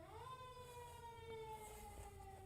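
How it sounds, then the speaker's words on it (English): A fire truck siren wails faintly in the distance, a steady sustained tone sliding slowly downward in pitch as the vehicle passes, with no talking. "it's a fire truck."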